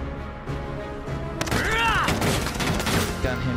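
Bursts of rapid gunfire and explosive crashes from the tactical war game Valkyria Chronicles 4, loud and dense after a quieter opening, with a brief whistling streak through the barrage.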